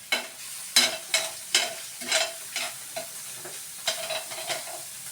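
Ground garlic dry-toasting in a pan, stirred in about ten quick scraping strokes over a soft sizzle, close up with no one talking.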